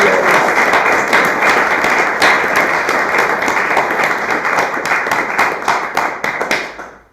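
A large audience at an online summer school worship gathering claps for the engagement group leaders, loud and dense, sustained throughout before fading at the end.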